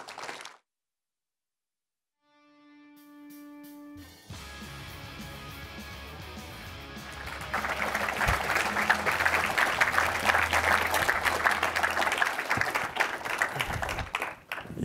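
At a conference, an audience claps to welcome speakers onto the stage; after a short silence and a musical sting, applause builds into a full, sustained roar of many hands, then thins toward the end.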